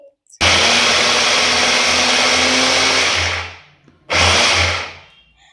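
An Agaro electric chopper with a single blade chops roughly cut onion in a loud, steady whir lasting about three seconds, followed by a second short burst, close up.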